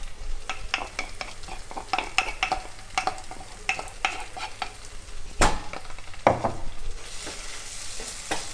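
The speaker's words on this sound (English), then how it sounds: "Stir it well. After adding the ginger and garlic, you have to keep on stirring" Ginger, garlic and king chilies sizzle in hot oil in a pan while a spatula stirs them, with repeated scraping taps and knocks against the pan over a steady frying hiss.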